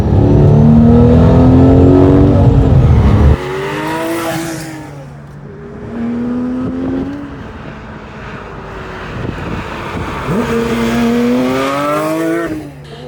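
Porsche 911 992 S/T sports car engine heard from inside while driving, loud and steady with rising and falling revs through gear changes, a sharp drop in level after a few seconds, then climbing again near the end.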